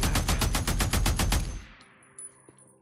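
Rapid automatic gunfire from a weapon in the video game Days Gone, a loud burst of about ten evenly spaced shots lasting over a second, followed by a fading echo and a couple of faint clicks.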